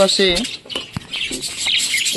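Spangle rainbow budgerigars chirp in quick, high twittering bursts with a few sharper calls, fairly close and lively throughout, with no voices.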